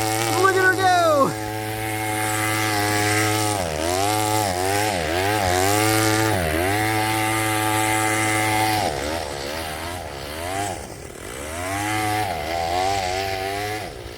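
A gas-engine conversion of an Arrma Kraton RC car runs close by with a loud, high-pitched buzzing drone that revs up and down repeatedly, sagging and climbing in pitch throughout.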